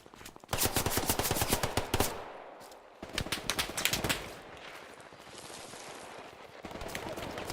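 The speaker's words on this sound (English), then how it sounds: "MG fire out there in the distance to the southwest." Distant machine gun fire in the Hell Let Loose video game, on the Hill 400 map: rapid bursts of automatic fire crackling far off, stopping and restarting in several strings, with a low steady background hum.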